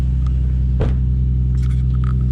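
A car engine idles slightly high with a steady low rumble and hum, with a brief click and faint light rattles over the drone.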